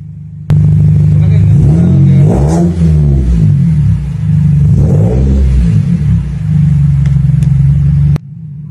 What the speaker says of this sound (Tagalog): Ayan, at yun nga po ang tunog ng sasakyan ni Kalo.